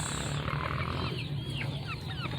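Chickens cluck and murmur in a steady low chorus, with a few higher chirps, over constant background noise.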